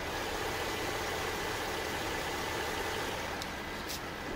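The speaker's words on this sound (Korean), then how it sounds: "바로 엔진 소리 한번 들려드릴게요." A Nissan 3.7-liter V6 in an Infiniti M37 idles with the hood open, a steady, even broadband hum and hiss with no revving, fairly loud and close, alone without voices.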